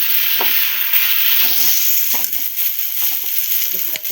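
Okra curry sizzles in a pan as tamarind juice is stirred in, giving a loud, close, steady hiss broken by soft scraping stir strokes.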